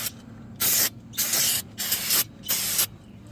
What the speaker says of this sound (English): I sprayed the back side of the rotor with brake cleaner. Now I'll spray the front side.